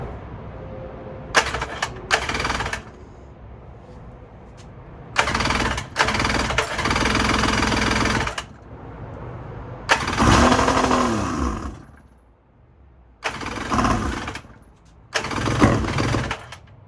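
Suzuki LJ20 engine cranked with the choke on, giving repeated loud bursts of starter whirring and engine catching, with short pauses between the attempts.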